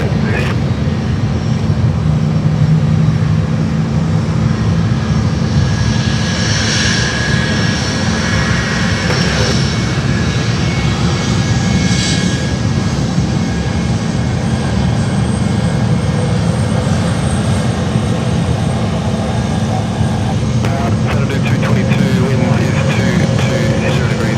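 A Boeing 717 jet taxiing on taxiway Charlie at Sydney Airport, a loud, steady engine roar with a faint high whine over a constant low rumble, unbroken throughout.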